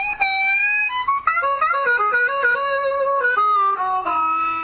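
Harmonica sound effect playing a short melodic phrase of held, reedy notes that step down and back up, loud and alone with no talking.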